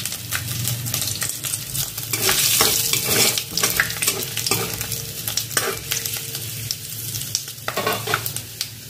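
Whole spices spluttering in hot oil before bottle gourd goes in for a prawn dish, a loud close sizzle with repeated crackling pops and scraping stirs, swelling in the middle and alone without talk.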